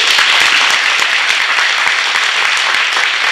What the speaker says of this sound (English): Let's give our fireside chatters a big round of applause.